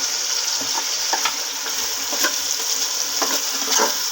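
Spices with garlic and ginger being fried (bhuna) in a pan for shaljam gosht, a steady close sizzle broken by frequent scraping and stirring strokes of a spoon, no talking.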